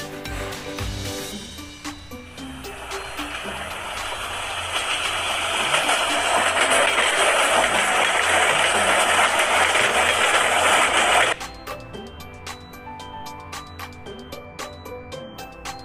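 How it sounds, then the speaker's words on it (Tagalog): A train rumbles past with a loud, broad roar that swells and cuts off abruptly, over background music. "train"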